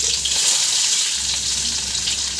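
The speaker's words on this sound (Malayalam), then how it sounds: "ഒരു ചട്ടി വെച്ചിട്ട് കുറച്ചധികം വെളിച്ചെണ്ണ ഒഴിച്ചിട്ട് കടുകിട്ട് അങ്ങോട്ട് പൊട്ടിക്കുക" A loud, steady sizzle and crackle of mustard seeds spluttering in plenty of hot coconut oil in a pan, close by, with no voices.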